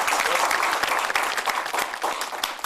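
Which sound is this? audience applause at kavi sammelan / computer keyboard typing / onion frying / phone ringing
audience applause at kavi sammelan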